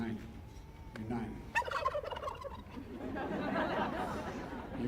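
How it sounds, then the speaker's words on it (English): Turkeys gobbling at the Thanksgiving turkey pardon, a few rattling gobbles bursting out amid faint crowd chatter and light laughter, moderately distant. "You picked two great turkeys."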